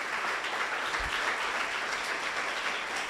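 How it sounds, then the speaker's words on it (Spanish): Continuous, even applause from a church congregation, a broad wash of many hands clapping at steady loudness, with no voices standing out. "Vamos a darle un fuerte aplauso al Señor"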